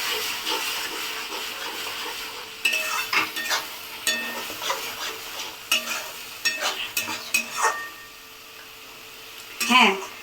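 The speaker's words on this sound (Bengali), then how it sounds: "মশলাটাকে ভালো করে একটু কষিয়ে নিতে হবে" Masala spice paste with salt stirred and fried in a pan for mango dahi chicken, a soft sizzle with scattered scraping and clinking of the spoon against the pan, plus some faint talk.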